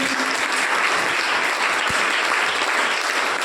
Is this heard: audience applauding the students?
yes